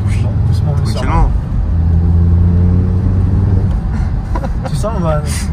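Audi TT RS turbo engine accelerating on a country road, a loud, continuous rumble with rising harmonic engine tones heard from the cabin, with voices speaking briefly near the start and end.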